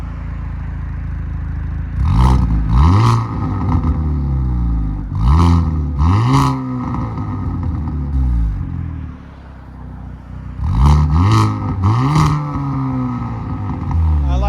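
A 2023 Hyundai Kona N 2.0L turbo revs hard through a throaty aFe cat-back exhaust with high-flow cat in three separate bursts, each climbing and falling, with a steady idle rumble between them.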